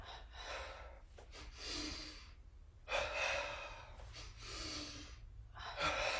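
A yoga practitioner takes audible double inhales through the nose, with soft repeated sniffing and breathing sounds close to the listener in a quiet room.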